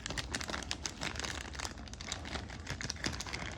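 New Maytag dryer support roller parts are ripped from crinkly plastic packaging, a close, busy stream of crackling and crumpling lasting several seconds with no talk.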